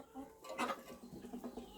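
Hungry ducklings and chicks peep and cheep in a faint, busy cluster of short high calls, overlapping without pause at a small backyard brood.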